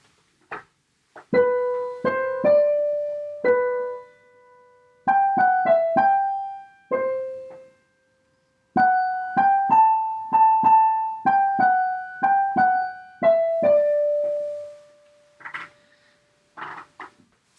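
A simple folk melody plays on a clear, bright instrument, phrase after phrase of short notes with brief pauses between them.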